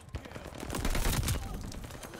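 Rapid automatic gunfire from a fast-paced Call of Duty match rattles in a dense, continuous burst of shots over about two seconds, fairly loud and close.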